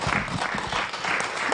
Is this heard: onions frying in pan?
no